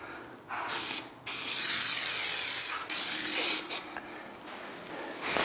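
Bursts of spray hiss onto a bathroom floor during waterproofing, several sustained blasts of varying length separated by brief pauses, close and loud with no talking.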